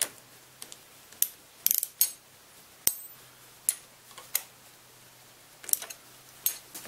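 Metal clicks and ratcheting taps from tightening the clutch lever bracket on a Yamaha Banshee, a dozen or so sharp, close, irregular clicks over a quiet background with no talk.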